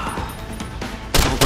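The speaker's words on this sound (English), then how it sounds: "let's go ahead and use the combat rifle" Combat rifle shots ring out in Deus Ex Human Revolution, a few soft reports early then two loud close cracks near the end of the short stretch.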